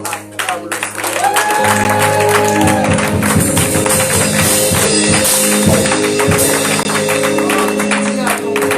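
A church congregation at a Sunday service applauds and acclaims the Lord, with dense sustained clapping and raised voices filling the room, loud and continuous, with music tones underneath.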